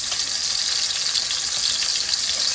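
Hamburger patties browning in a frying pan for smothered hamburgers give a loud, steady, close sizzle that holds evenly throughout with no voices.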